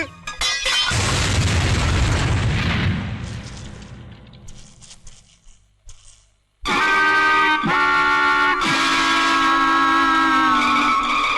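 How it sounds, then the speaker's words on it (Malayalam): A loud cartoonish bomb explosion effect in an old Malayalam comedy scene, a broad booming blast that fades out over several seconds, then cuts to loud tonal music. "അയ്യോ ബോംബ്."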